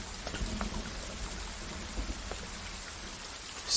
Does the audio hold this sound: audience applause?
no